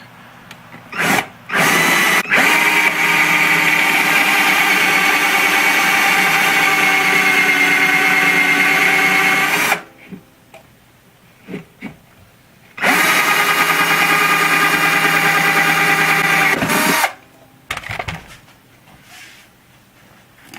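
An electric drill bores a pilot hole in a ukulele body, running loud and steady in two long whines of about seven and four seconds, with short starts, stops and handling clicks between.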